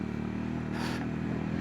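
A motorcycle climbs a monsoon hill road in first gear, with a steady, strained engine drone and a short rattling scrape partway through, close and loud, with no talking.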